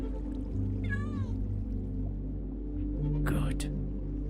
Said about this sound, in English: Look, it's a cat.